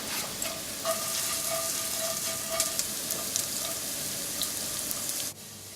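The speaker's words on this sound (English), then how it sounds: "Everything goes into the hot oil. You want to fry them up and get them nice and golden." Day-old bread croutons fry in hot oil with a steady, crackling sizzle and scattered pops, close by and unbroken until it cuts off abruptly near the end.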